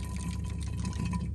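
Gear oil pouring into a G56 manual transmission during an oil change, a steady gurgling liquid stream with a low rumbling undertone, continuous and fairly close, cutting off abruptly at the end.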